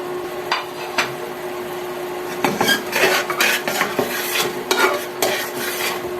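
Cooked hilsa fish is lifted out of a pan, with utensil scrapes and metallic clinks against the pan over a soft sizzle, clustered and irregular, near and clear, with no voices.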